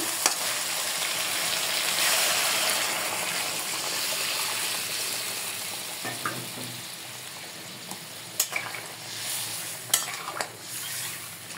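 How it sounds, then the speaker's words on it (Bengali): Hot water hits a pan of fried new potatoes for a shol fish curry, a steady loud hiss and sizzle followed by a few close spoon-and-pot knocks. "আলু যেহেতু ভাজা, বেশি একটা কষাবো না, গরম পানি দিয়ে দেবো রান্নার জন্য।"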